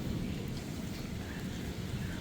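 Steady rain pours during an unseasonal summer shower in Gandhinagar, a dense, even hiss with no pauses.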